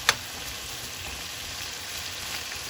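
Ground beef for tacos frying in a pan, a soft, steady sizzle and hiss that runs throughout, with a single sharp tap near the start.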